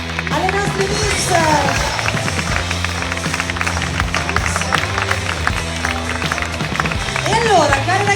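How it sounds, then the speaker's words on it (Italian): A crowd applauds the Miss pageant contestants, with sustained clapping mixed with cheering and babble and a voice speaking over the noise near the start and end. "Facciamo un applauso alle nostre Miss."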